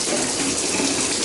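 Shower water running steadily on a spray setting with good pressure, a loud continuous hiss close by with no pauses or talk.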